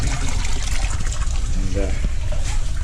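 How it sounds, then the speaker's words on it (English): Overflow water from a 200 gallon nature stone rock filter pours back into an aquarium, making a steady, loud splashing trickle with a brief voice heard partway through. "we have the overflow that comes out of the 200 gallon coming back into the aquarium here"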